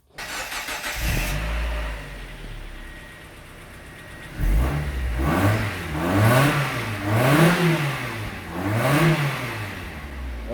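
A car engine with its stock factory exhaust cranks and settles into an idle, then revs up and down in several rising and falling sweeps, loud and close in a garage.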